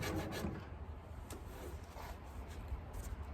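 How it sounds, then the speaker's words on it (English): Sandpaper rubbing old varnish off the wooden cabinet of a Singer treadle sewing machine, a steady close rasping scrape that continues without a break and with no talk over it. "Then we'll just sand it"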